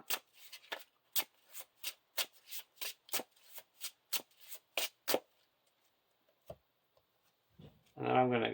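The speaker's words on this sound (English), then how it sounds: "I shuffle the top card of my discard pile into my deck" Playing cards shuffled by hand in a steady run of crisp riffles and flicks, close up, about a dozen quick strokes that stop abruptly, then a brief pause before a voice begins.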